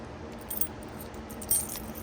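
A bunch of keys for individually keyed storage locks on a race trailer being readied for Rocky Mountain Raceweek jangles in a couple of short, close metallic bursts over a steady background hum.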